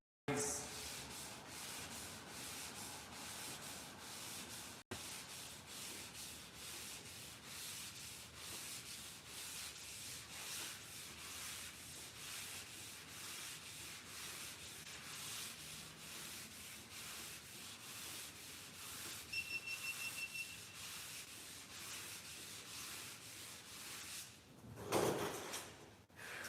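Wet sanding the paint on a Dodge Dart by hand, a steady, even back-and-forth rasp repeating for the whole stretch, fairly faint and continuous, with a brief clatter near the end.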